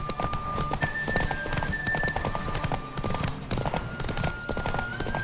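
Rhythmic hoofbeats of a galloping horse in The Witcher 3: Wild Hunt, fast and continuous, with a faint tonal hum running beneath and no speech.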